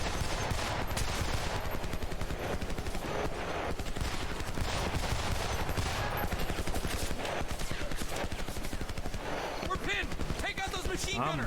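Sustained automatic gunfire from a full magazine emptied in a WW2 video game, dense and loud throughout with overlapping shots and battlefield noise, voices shouting over it.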